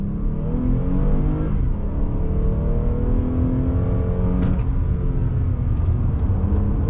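A 2021 Toyota Highlander XSE AWD SUV in sport mode with an automatic transmission pulls away hard from a standstill, its loud engine drone rising and dipping as gears shift, heard steadily from inside the cabin.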